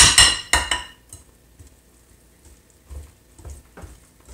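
Peanut butter cheesecake ingredients are stirred in a bowl, giving two loud opening clatters of utensil against the bowl, then quieter scattered scrapes and taps.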